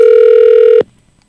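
A steady, loud telephone dial tone holds for most of a second during a live radio show call-in, then cuts off abruptly as the line connects, leaving near silence.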